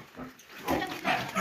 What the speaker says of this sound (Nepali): सुँगुरको फार्म हो यहाँ